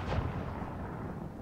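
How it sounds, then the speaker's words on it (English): Ship cannons firing in the Blackwake naval combat game, a rumbling booming blast with a long dull roll trailing off. "Load the portside cannons immediately!"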